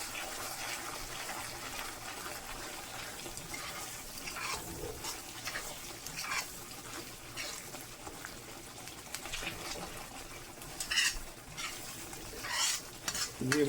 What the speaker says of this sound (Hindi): इन सब्ज़ मिर्चों को भी हम इसके साथ फ्राई कर लेते हैं।